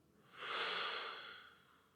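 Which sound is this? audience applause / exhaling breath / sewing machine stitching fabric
exhaling breath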